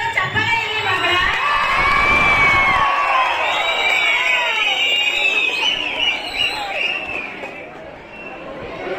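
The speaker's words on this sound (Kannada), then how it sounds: "ಮತ್ತೆ ಜೋರ ಚಪ್ಪಾಳೆ ಇರಲಿ ಮಕ್ಕಳ" Students at a fresher's day celebration in Turuvekere cheer and shout in a loud, sustained crowd roar that peaks early and gradually fades near the end.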